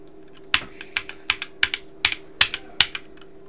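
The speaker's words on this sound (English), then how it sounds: "we got some keyboard ASMR too" Crisp clicking keystrokes on a computer keyboard, about a dozen sharp taps in an uneven typing rhythm, close and clear over a faint steady electrical hum, no voices.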